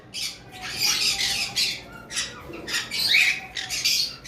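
Lovebirds squawking in a rapid series of harsh, shrill calls, fairly close and continuous, with no voices.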